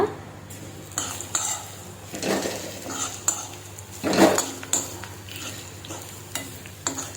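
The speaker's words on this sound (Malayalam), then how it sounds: "ഇതിലേക്ക് നമുക്ക് കറിവേപ്പില ചേർത്ത് കൊടുക്കാം അതുപോലെ ഇളക്കി യോജിപ്പിക്കുക" Ground curry leaf paste is stirred in a hot pan, with a spoon scraping and clinking against the metal in irregular bursts over a low sizzle.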